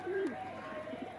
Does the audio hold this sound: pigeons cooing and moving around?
yes